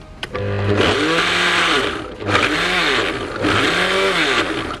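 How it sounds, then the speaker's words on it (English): A food processor pulsing onions, garlic and thyme: three loud motor bursts, each winding up and spinning down, close and alone without talk. "So I'm going to use the pulse action for this, just to have a bit more control over how finely chopped you have your onions and garlic and thyme"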